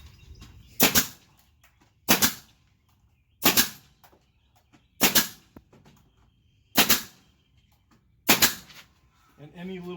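A nail gun fires 1.5-inch nails into wood while building a patio post cover sleeve. Six sharp, loud cracks come at an even pace about a second and a half apart, with quiet between shots.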